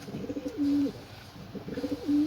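A pigeon coos close by, two soft rolling coo phrases each ending in a drawn-out note, over faint background rustle.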